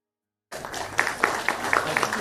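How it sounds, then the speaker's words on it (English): Audience at a medical students' orientation breaking into applause, a burst of clapping starting abruptly and holding steady with scattered louder claps, fairly close. "Can we give them a big round of applause?"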